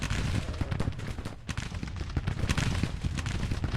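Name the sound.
Mississippi rifle fire in Grand Tactician Civil War video game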